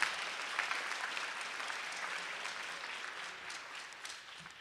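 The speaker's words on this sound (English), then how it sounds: "You could clap for James." Audience applause at a school spring awards ceremony, a steady wash of clapping from a crowd that holds evenly for several seconds and tapers slightly at the end.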